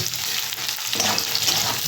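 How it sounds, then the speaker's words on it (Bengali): Potato pieces tossed into a pan of already fried onions hiss and sizzle steadily, the frying growing louder and busier midway as they are stirred, close up with no talking. "আলুগুলো দিয়ে আবারও একটু আমি এর সাথে ভেজে নেব"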